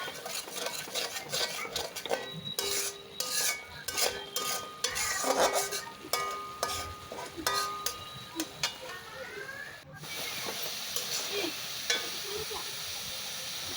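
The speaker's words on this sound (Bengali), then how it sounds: "ভালো করে নেড়ে চেড়ে এটাকে কষাবো" Taro stolons with dried fish, turmeric and chili are stirred and sautéed in a pan, with rhythmic scraping and clinks of a utensil over a faint sizzle, followed by a steadier hiss near the end.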